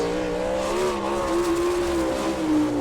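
A sprint car at Attica, Ohio, roars through a qualifying lap at an All Star Circuit of Champions race, its engine loud and close with a sustained, steadily shifting pitch as the throttle stays held wide open.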